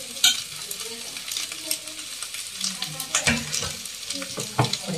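Capsicum frying in a pan for manchurian, a steady close sizzle with scraping stir strokes and occasional utensil knocks throughout.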